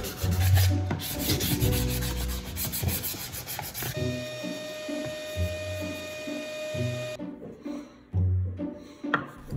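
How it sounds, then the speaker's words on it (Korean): Sandpaper of 240 and 320 grit rubs steadily back and forth across a wooden plate in repeated rhythmic strokes, close up, with a faint electrical hum behind it. "240방, 320방 사포로 한 번 더 밀어줍니다."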